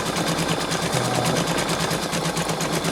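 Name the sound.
Brother Innov-is 2800D embroidery machine stitching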